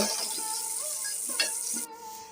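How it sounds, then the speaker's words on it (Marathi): Onions frying in oil in a pot for a village-style mutton curry, a close sizzle with light stirring and a few soft clicks of a spoon against the pan. "कांदा पण चांगला फ्राय करून घ्यायचा आहे ब्राऊन होईसपर्यंत सोनेरी कलर येईसपर्यंत"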